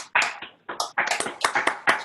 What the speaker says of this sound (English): if you can unmute and just give her a big round of applause, please